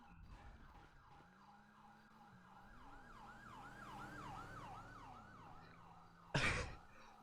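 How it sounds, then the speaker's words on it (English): Wailing emergency siren inside a video game, a rising and falling electronic wail that swells as it approaches over a low engine hum, capped by a sudden loud burst near the end. "I hear sirens."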